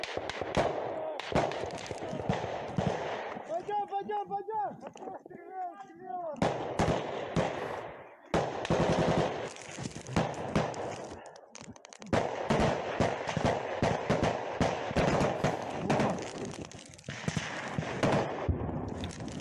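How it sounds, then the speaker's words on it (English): Gunfire in a firefight between Russian and Ukrainian soldiers, with sharp bursts and scattered shots coming repeatedly through the whole stretch, mixed with a voice and battlefield noise. "a little bit of firefight going on here"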